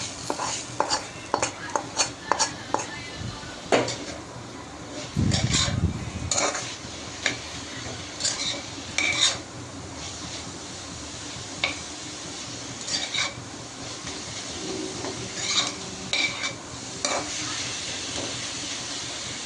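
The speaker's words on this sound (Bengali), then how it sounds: "এখন নেড়ে চেড়ে শাকটা আমি ভেজে নেব।" Leafy greens are stirred and fried in a pan, with frequent scraping and clanking of a spatula against metal over a continuous sizzle, plus a brief louder rush of frying partway through.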